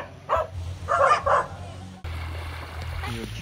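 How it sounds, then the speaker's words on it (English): Stray dogs on a beach bark and yip in a short burst of several sharp calls up close, followed by steady surf and wind noise with a faint whimper near the end. "The beach turned out to have a surprising number of stray dogs, barking and squabbling among themselves."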